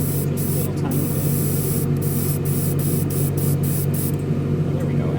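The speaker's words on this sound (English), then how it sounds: "just a little spray with my airbrush brush" Airbrush lightly spraying gray primer onto white plastic parts of a Revell 1971 Boss 351 Mustang model kit, a steady close hiss over a constant compressor-like hum, with brief breaks in the spray.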